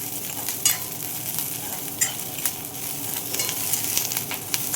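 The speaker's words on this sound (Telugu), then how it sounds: "చూడండి చక్కగా వేగుతుంది కదా" Tempering of spices and dried red chillies frying in oil while being stirred, a continuous crackling sizzle broken by sharp spatter pops and scraping stirs, close and alone without any talk.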